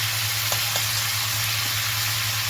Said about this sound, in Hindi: इसे अच्छी तरह से इस तरह से फ्राई करनी है